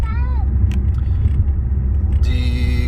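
Audi A7 on a highway road trip after an ECU remap, its steady engine and road rumble filling the cabin loudly and continuously, with a few brief tonal sounds over the top.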